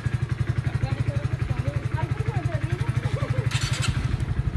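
A motorcycle engine putters steadily close by, its rapid regular pulses running throughout, with a brief higher burst near the end.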